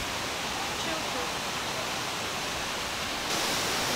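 A waterfall in Hong Kong Park roars as a dense, steady broadband rush of falling water, close and loud throughout, with a slight surge near the end.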